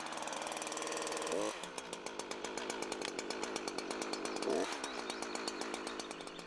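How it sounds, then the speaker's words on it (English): A chainsaw runs steadily after starting, its engine buzzing loud and close with a rapid ticking rhythm and two brief dips in pitch as the throttle shifts, with no talk over it. "When you've got the saw started, don't disengage the chain brake until you're ready to saw."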